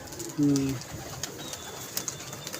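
A pigeon at a pigeon club gives one short, close, deep coo that rises out of quiet background noise and ends quickly, followed by faint scattered rustles.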